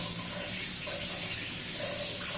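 A shower runs in a wet area, a steady, loud hiss of spraying water spilling onto the tiled floor and draining, constant and uninterrupted with no voices.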